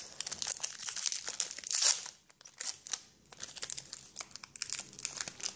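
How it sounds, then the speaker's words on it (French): A Pokémon Rayquaza booster pack from the ex Emerald set crinkles and crackles as its foil wrapper is torn open, close up, in dense bursts with a short lull midway. "Je vais bien ouvrir ce booster."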